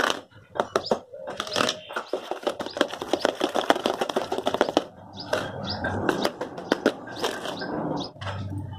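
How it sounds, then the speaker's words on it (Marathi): Homemade shrikhand of fresh chakka being whisked by hand in a bowl, producing rapid repeated soft tapping and scraping strokes in steady bursts, close and moderately loud, with a short pause midway. "छान आपण फेटून घेऊया ते."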